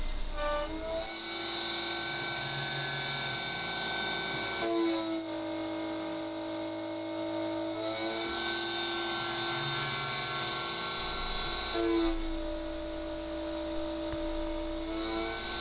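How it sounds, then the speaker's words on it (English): A CNC mill cuts with a carbide end mill, giving a loud, steady high-pitched whine with strong tonal harmonics, repeating in passes of about four seconds with brief shifts in pitch between them. "this operation is just to kind of mill out an area for me to put a temporary clamp"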